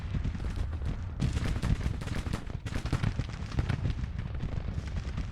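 Civil War artillery pounding in Grand Tactician, with booming cannon shots and crackling musket fire in rapid irregular bursts, loud and sustained with brief lulls.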